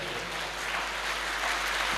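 An audience at a Punjabi mushaira in a college hall applauds the poets, a steady wash of clapping heard from a distance that holds at an even level.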